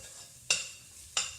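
Ginger and garlic cooking in a curry pan, stirred in two quick scraping strokes about half a second apart over a faint low sizzle, close and without speech.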